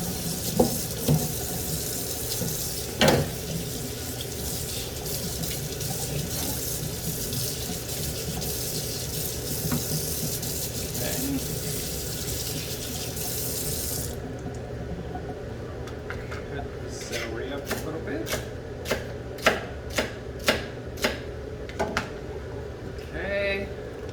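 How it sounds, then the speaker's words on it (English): A kitchen tap runs steadily as celery is washed under it, water splashing continuously, then lighter taps and handling clicks follow as the flow changes; a voice speaks faintly underneath. "I think celery needs to be washed because it has dirt on it."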